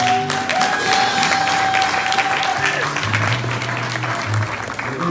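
A church congregation at a blessing ceremony breaks into loud, sustained applause, dense clapping throughout with voices and cheers mixed in.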